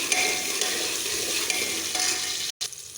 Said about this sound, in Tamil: வெங்காயம் பாதி வதங்கினதும்